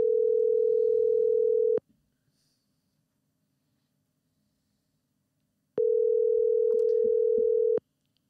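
A telephone call being placed gives two long, steady ringing tones about four seconds apart, loud and clean, with near silence between them.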